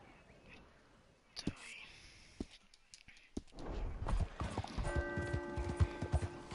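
Video game horse hooves clip-clop in scattered clicks that build into a denser, louder trotting patter, with faint whispery voice-like sounds early on.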